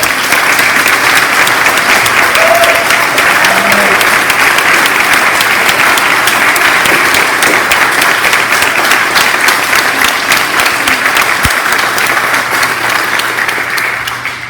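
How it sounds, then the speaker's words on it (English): Loud, sustained applause fills the room at an APD police swearing-in ceremony, dense even clapping from a large audience continuing for the whole stretch before tapering slightly at the end. "Let's give a big round of applause"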